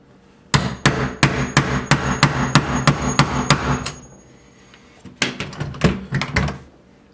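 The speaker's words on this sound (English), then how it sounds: "Do a little more hammering." Loud, close hammer strikes on a chisel removing a doorknob with a stripped screw, in a quick regular series, a brief pause, then another rapid cluster of sharp metallic blows.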